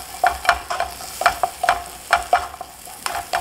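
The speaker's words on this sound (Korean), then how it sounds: "녹색 피망, 홍색 피망, 홍피망, 청피망 같이 볶아줄게요" Green and red bell peppers being stir-fried in a pan, with repeated short scraping and tossing strokes over a light sizzle, steady and close, with no talking.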